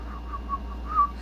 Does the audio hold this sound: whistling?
yes